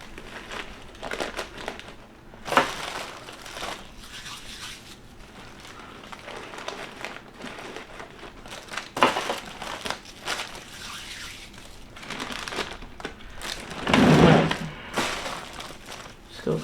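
Tissue paper crinkles and rustles in bursts while a closing gift basket is filled and arranged, with a person talking throughout and louder crumpling swells now and then.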